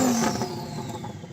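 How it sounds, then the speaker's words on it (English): A Lamborghini Huracán engine revs loudly and close up, a short burst of engine roar whose pitch falls away as the revs drop. "so I'm going to rev up this Lambo"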